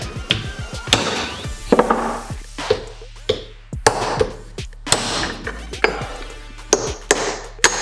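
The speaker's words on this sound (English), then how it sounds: "So now we have to smack out the old bushings." Repeated hammer blows knock old bushings out of a Nissan 370Z differential, irregular sharp metallic whacks and taps, close and loud, with ringing between strikes and no talk.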